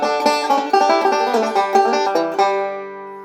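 A plucked banjo plays a quick rolling bluegrass Scruggs lick in D, bright picked notes tumbling in a steady pattern before a final note rings out and fades.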